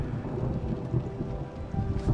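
Steady rain falls during a safari in Kenya, a dense even wash of drops with low rumbling underneath, continuous and fairly close for the whole stretch with no voices.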